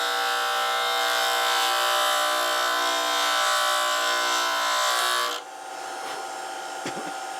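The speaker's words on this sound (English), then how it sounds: "Now I'm using a skew." Skew chisel cutting wood on a lathe, a steady, loud hissing scrape that runs continuously for several seconds, then drops abruptly to a quieter whir with faint taps near the end.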